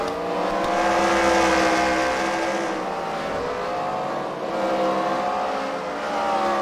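Race cars lapping a track at The Freedom Factory during a CWRL round, a steady loud engine drone that swells and fades as cars pass, with overlapping revving and no pauses.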